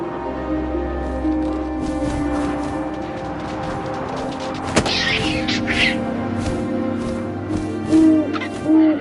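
Owl hooting in the video game What Remains of Edith Finch, a few soft tonal hoots over a low windy ambient bed with scattered clicks and rustles.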